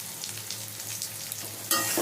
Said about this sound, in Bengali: ভালো করে পটলের সাথে মিশিয়ে নিলাম